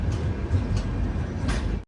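Train rumbling as it stops at Adipur Junction on the Ala Hazrat Express from Ajmer to Bhuj, a steady low rolling noise heard close from inside a sleeper coach, with brief brighter hisses and a sudden cutoff at the end.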